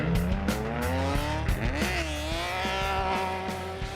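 A rally car engine fitted with six individual throttle bodies revs hard and close, the pitch climbing and dropping through several sharp blips with a rasping, high-revving tone.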